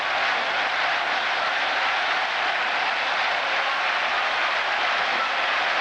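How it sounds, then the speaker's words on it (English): Dense, steady applause from a large crowd of spectators at Bislett Stadium during a track race, a continuous roar of clapping that stays loud throughout with no clear talk. "look at the spectators and rhythmic applause that is so characteristic of Bislett Stadium"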